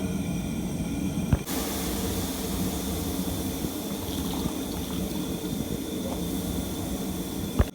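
Zoom greens being washed in water for Cameroonian sanga, a steady rushing, splashing wash of water with a sharp knock near the start and another at the end.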